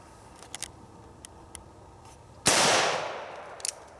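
A Cimarron open top revolver fires a single loud, sharp gunshot with a long ringing decay, set against quiet outdoor background and a few faint clicks before and after.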